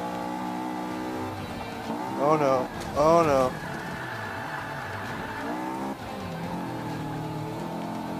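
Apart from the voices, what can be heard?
race car engine in Forza 5 video game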